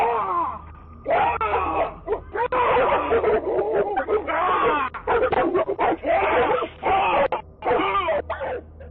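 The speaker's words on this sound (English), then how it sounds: "The surveillance footage shows a pack of dogs taking on a lone wolf," A pack of dogs snarls, growls and barks in frantic bursts while attacking a lone man, with his pained shouts and moans mixed in; captured on outdoor surveillance footage, loud and continuous.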